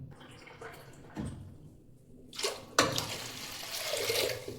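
Two glasses of water poured into a pot of washed lentils, quiet at first, then a splashing pour starting midway and continuing to the end, close by.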